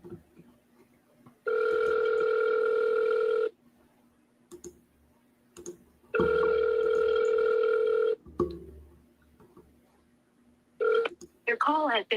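A phone call rings out twice in long steady electronic tones, each a couple of seconds, with clicks and faint background between, then a brief chirp of tones at the end.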